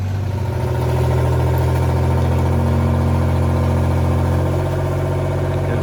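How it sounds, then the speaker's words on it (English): A backhoe engine runs on a home building site with a loud, steady low rumble close by. Its pitch shifts slightly as it works, and no voices can be heard. "There's Chuck on the backhoe."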